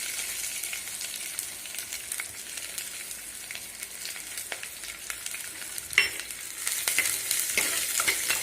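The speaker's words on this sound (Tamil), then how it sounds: "வெங்காயத்தை நல்லா வதக்கி விட்டுருங்க." Onions sizzle and fry in a pan for a Tamil dried fish curry (karuvattu kuzhambu), a steady bright crackle with occasional stirring scrapes, including a sharper clack near the end, and no voices.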